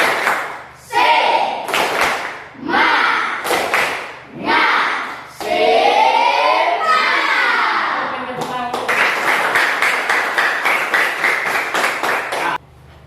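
Schoolchildren in a classroom perform a rhythmic cheer clap, loud bursts of clapping alternating with chanted voices, then a fast run of steady, evenly spaced claps near the end.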